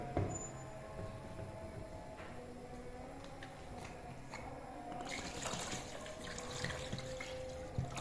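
Water runs and splashes steadily into a cooking pot for chicken soup stock, a continuous pouring stream with faint clinks, growing slightly fuller toward the end.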